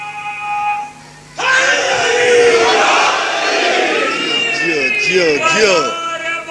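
A large crowd roars out a slogan in unison after a brief sustained tone. The massed voices are loud and rise in rhythmic, wavering shouts that hold for several seconds.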